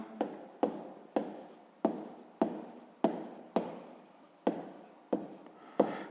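A pen or pencil writes out a sixth-grade math answer in a run of about ten short scratchy strokes. Each starts sharply and fades quickly, falling at an even, regular rhythm, close up and clear with no talking.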